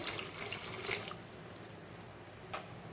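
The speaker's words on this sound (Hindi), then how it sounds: "अब हम इसमें एक कप पानी डालेंगे" A cup of water pours into tomato gravy in a pan for paneer butter masala, splashing fairly softly for about a second, then easing into a quiet liquid hiss with a brief faint splash later.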